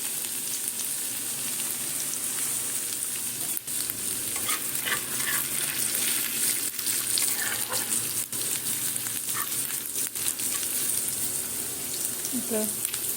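Ginger frying in hot oil with asafoetida in a home kitchen, with a loud, dense, steady sizzle and crackle, close and continuous, and occasional stirring knocks against the pan.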